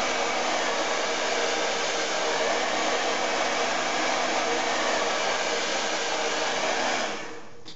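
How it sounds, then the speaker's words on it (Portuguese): A hair dryer blows with a loud, steady whooshing roar for several seconds while blow-drying hair, then cuts off near the end; no talking. "Aí você vai vir com o secador."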